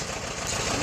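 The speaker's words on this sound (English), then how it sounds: "This is a John Deere 730 diesel with a 2-cylinder." Two-cylinder John Deere 730 diesel tractor idling close by during haying, a steady low rumbling throb with no voices.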